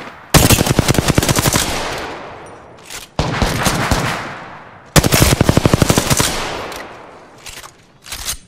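Rapid automatic gunfire in Apex Legends, three loud bursts of fast shots with short gaps between them and a few scattered single shots, no talking.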